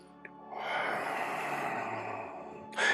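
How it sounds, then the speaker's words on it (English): Ujjayi yoga breathing, a slow whispery breath drawn through a narrowed throat during one-arm yoga practice, sustained and close, breathy and hushed, ending in a brief sharper breath. "closing down the throat so you have a subtle whisper through the inhalation and exhalation"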